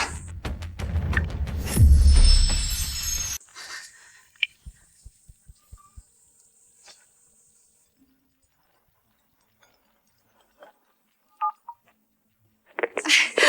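Brief talking gives way to near silence, then a few short electronic dialing beeps and faint clicks, with talking returning at the very end.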